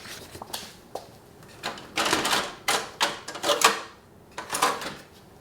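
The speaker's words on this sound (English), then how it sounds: "Now, while that's printing out" A DTF sublimation transfer printer loads and prints, giving quick clacking, rattling mechanical bursts in an irregular rhythm, close and fairly loud, with no talking.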